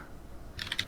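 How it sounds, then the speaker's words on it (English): A computer keyboard is typed on briefly in a quiet room, with a quick cluster of light, close clicks after a moment of faint background hiss. "Don't mind my keyboard."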